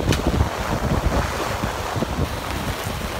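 Wind and rain from a pop-up storm at a Florida campsite, gusty rushing noise buffeting the microphone with steady patter underneath, continuous and close with no talking.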